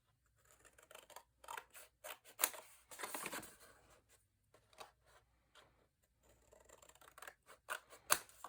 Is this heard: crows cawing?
no